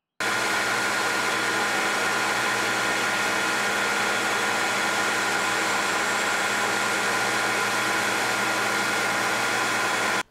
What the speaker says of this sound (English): I grind the heads down till they stick out a little under an eighth of an inch